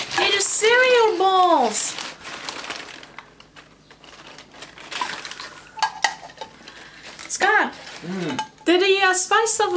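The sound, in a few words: Sterilite Spice of Life cereal bowls clinking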